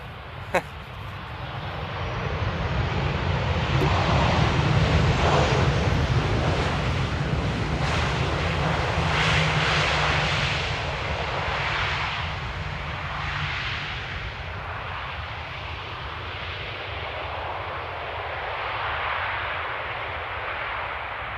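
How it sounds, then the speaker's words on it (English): A heavy airliner takes off in rain at Amsterdam airport, its jet roar swelling from a distance to a broad, steady rumble and then slowly fading, with wind noise and rain hiss underneath. "And another heavy takeoff."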